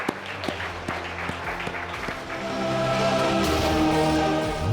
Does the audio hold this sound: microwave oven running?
no